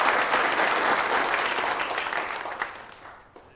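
A wedding banquet audience breaks into loud, sustained clapping to welcome the host to the stage, then the applause gradually thins and fades near the end.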